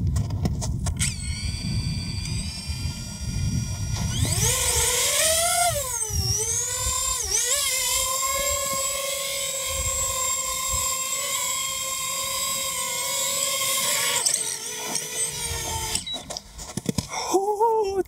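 A DJI FPV drone on a test flight gives a loud, continuous high-pitched motor whine that rises and bends in pitch as it spools up and maneuvers, then holds steady before cutting off near the end.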